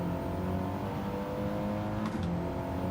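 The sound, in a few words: Audi TT Cup Gr.4 race car engine in video game Gran Turismo 7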